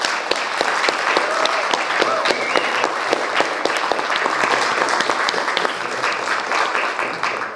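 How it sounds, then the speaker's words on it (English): An audience at a May 2025 King County Executive candidates forum claps for the candidates, a loud, dense round of steady applause that carries on throughout before easing slightly at the end. "can we please give a huge round of applause to all of our candidates up here"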